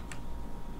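A planted bomb in Counter-Strike gives a single short, sharp electronic tick early on, followed by a low, steady background hum.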